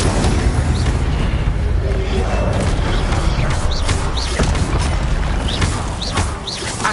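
Incendio fire spell cast in a Harry Potter video game, a loud, sustained roaring whoosh of flame with rumbling, crackling texture and faint higher whistles, easing slightly near the end.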